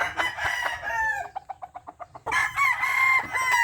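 A straight-combed Gilmore bloodline gamefowl rooster crows loud and close in a single drawn-out call, with clucking and other fowl sounds around it.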